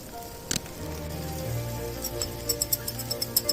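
Metal chopsticks beating eggs in a bowl for Korean rice cake soup (tteokguk), a rapid run of light clicking taps that builds into a quick rhythmic patter, close and clear.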